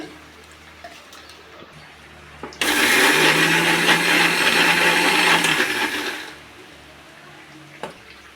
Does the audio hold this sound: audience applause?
no